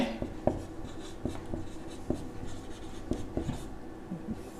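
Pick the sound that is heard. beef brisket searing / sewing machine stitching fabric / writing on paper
writing on paper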